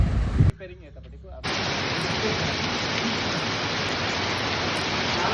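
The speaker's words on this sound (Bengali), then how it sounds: "রাতে প্রচণ্ড বৃষ্টি হচ্ছে" Heavy rain falls at night at a homestay in Sittong, a dense, steady broadband roar that starts after a short muffled opening with faint voices and continues loud and unbroken.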